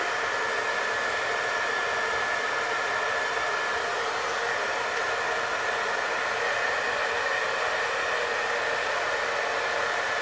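A hair dryer blow-drying hair during a salon haircut, roaring loud, close and steady for the whole stretch with no pauses and no voices.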